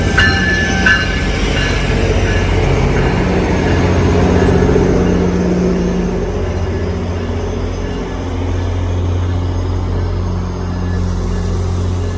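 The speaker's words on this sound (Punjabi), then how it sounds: "ਸਾਡੀ ਟ੍ਰੇਨ ਆ ਗਈ ਆ ਟੋਰਾਂਟੋ ਜਾਣ ਲਈ" A GO commuter train in Mississauga, bound for Toronto, rumbles loudly and steadily close by, with low engine drone and rolling wheel noise throughout.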